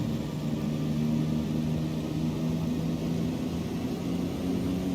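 Supermarine Spitfire Mk1a in Microsoft Flight Simulator, heard from the cockpit: a steady droning engine with a whistling whine holds at an even, constant level, with no voices.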